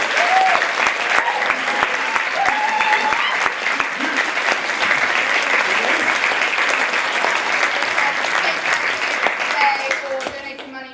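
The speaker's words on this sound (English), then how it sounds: "just want to please have a huge round of applause for my" A theatre audience breaks into loud, sustained applause after an evening performance of Much Ado About Nothing, with sharp individual claps standing out near the end and a few voices heard in the crowd.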